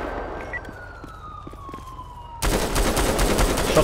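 Gunfire in a police roleplay video game: a falling siren-like tone with faint scattered pops, then an abrupt loud burst of dense rapid shots through the final second and a half.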